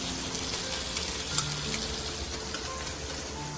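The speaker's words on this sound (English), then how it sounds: "put the fish for sauteing" Fish sautéing in a hot pan, a steady dense sizzle with faint crackles running unbroken throughout, close and fairly quiet.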